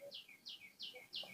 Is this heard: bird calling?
yes